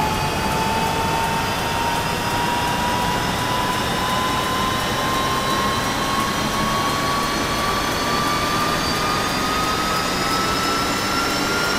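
A UH-1H helicopter turbine spools up in the DCS flight simulator, a steady loud whine rising slowly in pitch over a dense, continuous roar, with no break throughout.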